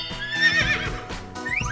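Cartoon horse neigh in a farm animal drawing puzzle game, a loud close whinny with hoof clip-clops and bright musical chimes underneath.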